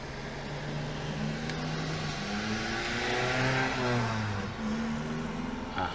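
A beat-up Hyundai with a loud muffler drives past, its engine drone swelling to a peak near the middle and fading away, alone with no talk.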